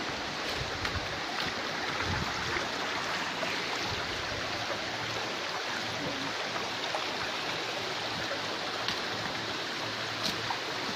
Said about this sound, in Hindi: पानी का वेग ज्यादा है